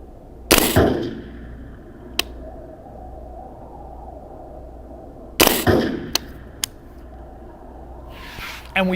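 Simulated rifle shots in a VirTra V-Marksmanship training simulator, two sharp loud broadband bursts several seconds apart, each followed by a few faint ticks, over a steady low hum.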